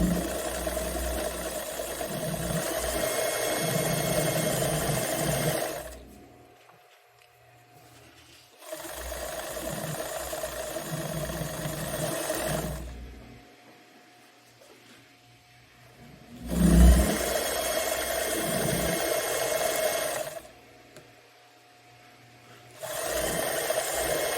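Sewing machine running through wide leg pant fabric in several bursts of steady buzzing separated by quiet pauses, close and moderately loud with no talk.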